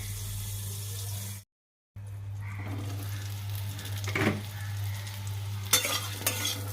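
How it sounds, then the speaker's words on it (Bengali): Pointed gourd shallow-fries in a covered pan, a low steady sizzle with a constant hum beneath, a brief dead gap, then a few soft clinks and scrapes near the end; nobody talks. "স্টাইল করে যেটাকে বলে শ্যালো ফ্রাই বুঝতে পেরেছ একটু ঢাকা দিয়ে দিলাম"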